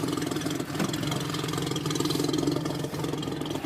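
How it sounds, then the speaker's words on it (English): A truck engine idles steadily nearby on a cold morning, an even, low rumbling drone with a faint mechanical chatter on top. "Now we'll look at the engine bay while it's running."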